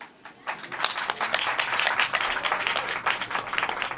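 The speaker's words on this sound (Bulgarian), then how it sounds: "Аплодисменти за Метака." An audience at a talk on building hemp-concrete houses breaks into applause after a brief quiet start, the clapping swelling quickly and continuing steadily to the end.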